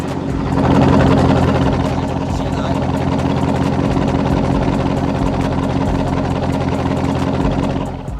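A 2022 Dodge Charger Scat Pack widebody with its mid muffler deleted idles close by, a steady low rumble with a faint rhythmic pulse that holds evenly throughout.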